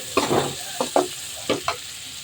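Small tomatoes, green chillies and turmeric sauté in a hot pan, giving a loud, close sizzle broken by several quick scraping stirs of a spoon.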